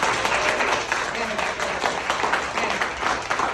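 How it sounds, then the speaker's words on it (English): Audience applause in an interview event setting, a steady dense wash of clapping held at an even level throughout, with a voice faintly present underneath. "one more round of applause to show her how we do it here"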